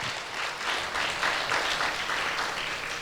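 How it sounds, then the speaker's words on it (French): A church congregation claps together during a Pentecost celebration service, a steady, moderately loud wash of many hands applauding alone for a few seconds. "Applaudis pour Jésus."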